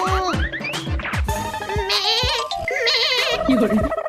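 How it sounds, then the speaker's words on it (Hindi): A young goat bleats again and again in loud, wavering cries, some of them overlapping, close up and with no break between calls. "चुप हो जा बकरी के बच्चे।"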